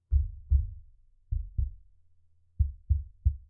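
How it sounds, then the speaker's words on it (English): Seven dull, low thumps in uneven groups, taps on a table and a microphone boom arm picked up close by a Fifine Tank 3 BM88 microphone, with quiet hum between them. "If I tap on the table and the boom arm, you can see how much noise it picks up."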